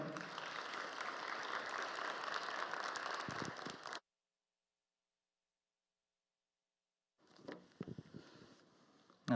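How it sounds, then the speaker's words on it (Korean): A church chapel audience claps to welcome a pastor to the stage, a dense burst of applause for about four seconds that cuts off abruptly, followed by silence and then scattered faint claps and rustling. "우리 박수로 환영하겠습니다."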